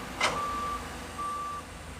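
A Fuso dump truck hauling soil at a toll road construction site gives off a steady reversing beep, two long tones over a constant engine drone, with a short thump before the first.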